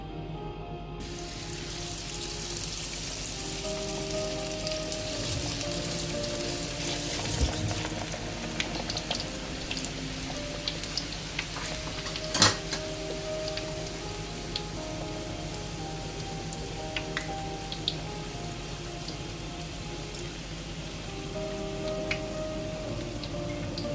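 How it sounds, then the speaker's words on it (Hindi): Katlama deep frying in hot cooking oil, a steady close bubbling and sizzling hiss that runs without pause, with occasional sharper pops and crackles. "कुकिंग ऑयल गर्म हो चुका है, इसको हम डीप फ्राई करेंगे"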